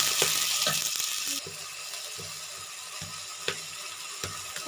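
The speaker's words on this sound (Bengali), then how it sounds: "পেঁয়াজ দিয়ে দেবো এবং এর সাথে দিয়ে দেবো কয়েকটা কাঁচামরিচ এবং এগুলো দেওয়ার পর খুব ভালো করে এগুলো হালকা নেড়ে দেবো" Onions and green chilies sizzle in oil in a pan for a bitter gourd fry, a loud hiss at first that then settles into a softer fry, with repeated stirring scrapes and clicks close by.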